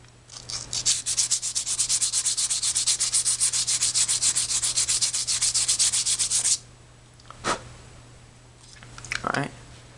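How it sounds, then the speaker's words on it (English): Steady, rapid scratchy rubbing of sandpaper on a small construction-vehicle scale model, continuous for several seconds, then a few brief scrapes and clicks afterward. "make sure you always support the model well when you're sanding"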